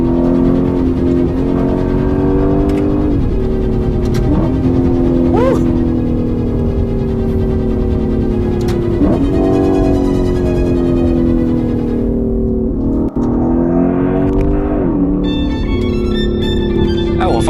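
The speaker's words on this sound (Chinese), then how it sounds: "转速到了一定程度后，这个声音就出来了" Lexus IS F with a 5.0 V8 and eight-speed automatic, heard from inside the cabin as the engine revs hard, its loud droning note climbing and dipping through gear changes, steady and close.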